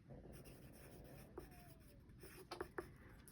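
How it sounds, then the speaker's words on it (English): A row count for a scrap yarn knitting project is written down by hand, a quiet scratching of pen or pencil on paper with a few short strokes and small taps near the end, close and faint. "I just write it down."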